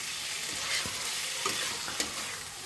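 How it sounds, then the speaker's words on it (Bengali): Spiced masala with tomato paste, turmeric, Kashmiri red chilli powder and kasuri methi frying in a pan, a steady soft sizzle with a few faint stirring scrapes, no voices. "সেই মশলাটা এবার দেবো, দিয়ে এটা কষাবো।"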